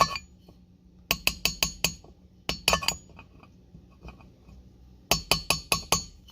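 Sharp metallic taps driving valve stem seals into place on a Gen 3 Hemi cylinder head, several quick bursts of four to five ringing clinks each, separated by quiet pauses, close and clear with no talk.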